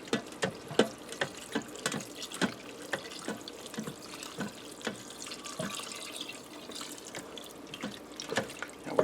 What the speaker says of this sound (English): I'm going to add in 2 cups of milk, and I'm going to pour this in slowly because the milk is cold.